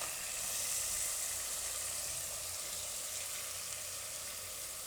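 Chana dal added to a hot pan with potatoes, a steady soft sizzle and hiss of frying throughout, fairly quiet and without talk.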